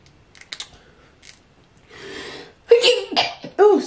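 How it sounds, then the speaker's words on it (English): A person sneezes sharply and loudly, close up, during a seafood boil mukbang with snow crab legs, preceded by quiet clicks, rustling and a breathy inhale. "I sneeze, y'all."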